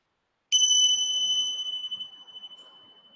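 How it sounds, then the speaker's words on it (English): Ting sha bells struck once, giving a bright, clear metallic ring that sustains and slowly fades in a quiet room, with no talking. "Bells, ting sha."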